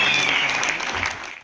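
A short burst of audience applause at an alumni meet, steady dense clapping that fades out quickly at the end.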